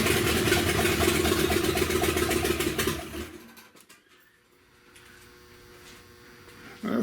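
A Buick 455 V8 engine with no exhaust fitted roars loudly on its first start-up, running rough and unmuffled for about three seconds, then cuts out abruptly, leaving faint background noise.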